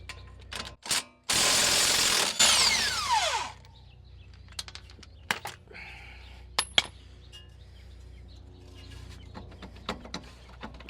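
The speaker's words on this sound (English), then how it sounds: "Grab an Ugga-Dugga. Do the bottom bolt." A pneumatic impact wrench hammers the bottom bolt on a Toyota Camry front suspension during a CV axle job, one loud buzzing burst about two seconds long, followed by sparse clicks and clanks of tools in a quiet garage.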